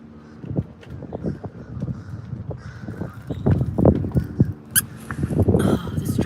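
A squeaky dog toy squeezed repeatedly, a rapid series of sharp squeaks at uneven intervals, close and fairly loud, with rustling between them.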